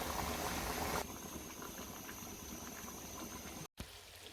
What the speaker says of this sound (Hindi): ये देखें जी बहुत ज़बरदस्त किस्म का हमारा चिकन फ्राई हो रहा है